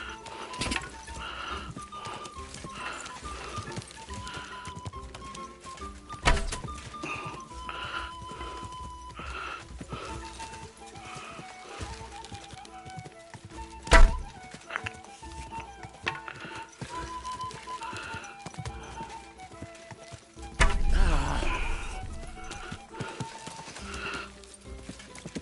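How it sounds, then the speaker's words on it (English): Horse in Kingdom Come: Deliverance 2, snorting and whinnying in short bursts over soft clopping hooves, with game music and ambient sound underneath. "Easy. Good horse."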